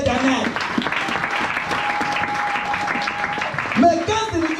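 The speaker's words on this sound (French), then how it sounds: "Acclame pour la vie éternelle." Sustained applause from a congregation at a church service, steady clapping filling the room for several seconds while voices and singing carry over it.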